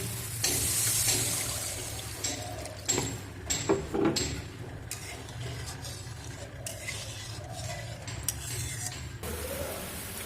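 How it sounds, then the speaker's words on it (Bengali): Water pours into a cooking pan of cabbage curry for dhokar dalna, a sustained splashing rush, with clinks of utensils and a brief sizzle mixed in, close by. "এবার আমরা দিয়ে দেব জল"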